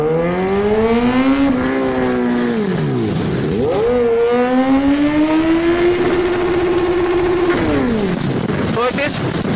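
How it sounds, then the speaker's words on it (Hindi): A special edition superbike with a Rapidbike Evo remap revs hard in first gear, its engine note climbing and dropping through repeated loud surges close by, with talk mixed in throughout. "फर्स्ट गियर टॉप स्पीड की तो वो भी हमें चेक करके देखते हैं, भगाते हैं फर्स्ट गियर पे"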